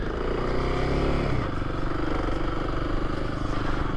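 Kawasaki KLX300 dirt bike ridden off-road on single track in low gears, its engine buzzing loud and close in a steady drone with a brief shift in pitch early on.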